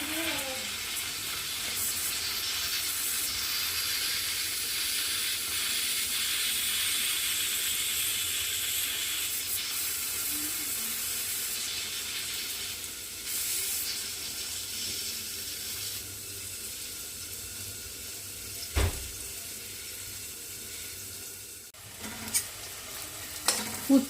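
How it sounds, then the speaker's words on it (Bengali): Bitter gourd slices fry in hot oil over a medium flame, giving a steady, close sizzle broken by occasional stirring scrapes and clinks near the end. "মিডিয়াম ফ্লেমে উচ্ছেটা আমি একটু কড়া করে ভেজে নেব।"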